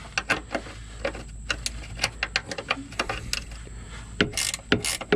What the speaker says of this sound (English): Then we're gonna grab 10mm wrench.